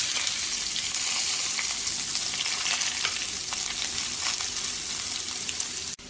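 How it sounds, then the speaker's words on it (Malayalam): Cooked cabbage goes into a hot pan of spluttering mustard seeds, dried red chillies and curry leaves and is stirred, giving a steady close sizzle with scattered crackles that cuts off abruptly at the end. "കടുക് പൊട്ടി കഴിയുമ്പോൾ ഇതിലേക്ക് വേവിച്ചെടുത്ത കാബേജ് ചേർക്കാം"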